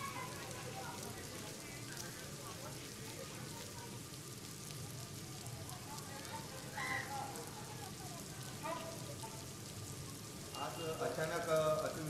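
Steady, dense rain pours down near a flooded school in Bhatkuli, Amravati district, a continuous hiss of a cloudburst-like downpour that swells slightly toward the end.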